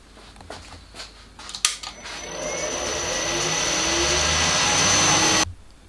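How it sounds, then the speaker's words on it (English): A milling machine fitted with a 25mm surfacing cutter machines the hex faces of a cannon wheel part, a steady whirring and grinding that builds in loudness, then cuts off abruptly near the end. "I shall do this with a 25mm surfacing cutter."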